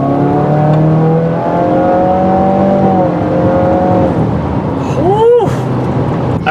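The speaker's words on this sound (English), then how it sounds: "Foot to the floor. Let's see what we get." A 2017 Subaru Forester XT with a Cobb Accessport revs hard under full throttle, its loud engine note climbing steadily in pitch, easing, then sweeping up again near the end of the pull.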